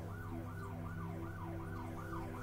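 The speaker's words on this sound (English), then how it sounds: "Out of game sirens." Real emergency sirens outside, not part of the game, wail in a repeated rising and falling cycle. They sound distant and faint over a low steady hum.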